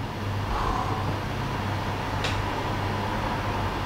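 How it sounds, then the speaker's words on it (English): Distant cars pass on a street outside a hotel at night, heard as a steady, faint rumble and hiss of traffic with no voices. "You can hear cars"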